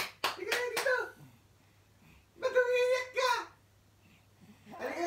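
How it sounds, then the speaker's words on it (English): Children clap their hands in a quick cluster of sharp claps, then a pause, with children's singing or chanting voices in between and around them. "Clap your hands."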